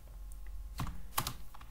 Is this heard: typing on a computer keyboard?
yes